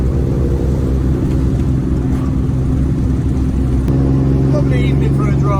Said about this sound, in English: you can have a little bit of the sound of the Cummins going down the road